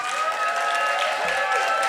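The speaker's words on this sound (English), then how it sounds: "Can you give yourselves a round of applause right now?" A pageant audience at the Arizona America Pageants Triple Crown Finals applauds itself, with a dense wash of crowd clapping and cheering and some sustained vocal tones over it, loud and continuous.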